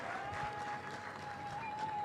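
An audience claps for the Vice Chancellor at a university youth week launch event at Pwani University, a faint, steady patter of applause heard from a distance, with a thin sustained tone running underneath.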